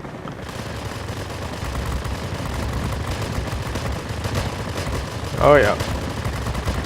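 Aircraft machine guns fire in World of Warplanes from an XP-55 Ascender fighter, a dense continuous rattle of gunfire with engine drone throughout, and a brief voice speaks near the end.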